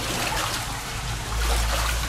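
Floodwater flowing and trickling through a flooded street in Faro during the 2012 floods, a steady close wash of running water with a low rumble swelling toward the end.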